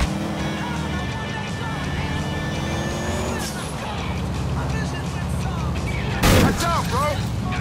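A Sultan RS sports car in GTA IV cruises along a road in single-player, its engine droning steadily with shifting pitch and a brief louder burst near the end.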